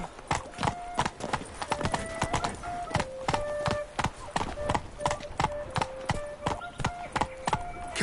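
Hooves of Roach, a horse in The Witcher 3: Blood and Wine, trot in a quick, even clip-clop rhythm, close and clear, with a soft whinny and someone speaking briefly over the steps.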